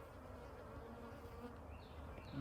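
A dense, steady buzz of many honey bees around a disturbed hive during hive splitting, a low continuous hum with occasional individual bees droning closer.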